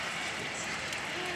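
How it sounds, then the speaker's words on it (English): Steady broadband hiss of rain falling during a storm in Kingsport, Tennessee, heard near a front door, continuous and dense with no clear gaps or voices. "the mighty rain has arrived."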